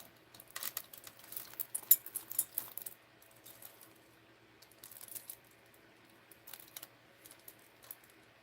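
Landscaping fabric laid over a garden is cut in a few close, crisp snips and rustles, grouped in short bursts with quiet pauses and no talking.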